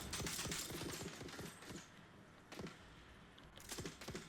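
A deployed turret in the video game Dune: Awakening fires rapid bursts of shots, a fast chattering volley at first, then scattered cracks and short bursts after a pause.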